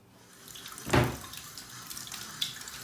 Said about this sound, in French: Je vais rincer aussi l'appareil un petit peu.